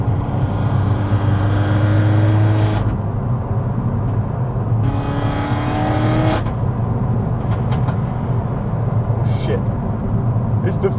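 Peugeot 308 GTi engine fitted with a decat downpipe, revving loudly and harshly in two long rising pulls, heard up close over a constant heavy idle rumble with voices talking around it.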